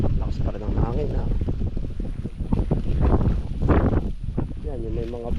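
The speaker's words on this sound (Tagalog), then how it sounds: "Lakas pa rin ang hangin ha." Strong wind buffeting the microphone in heavy low rumbles at an ube harvest, with people talking over it throughout.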